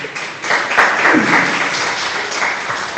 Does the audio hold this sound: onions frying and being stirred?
no